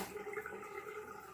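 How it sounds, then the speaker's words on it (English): Water drains steadily from a bathroom sink before a wet shave, a soft continuous gurgling wash of moderate level with no talk over it. "let me go ahead and drain this water that's in the sink"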